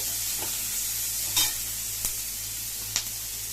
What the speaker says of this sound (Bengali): পেঁয়াজ কুচিটাকে এবার একটু ভাজতে হবে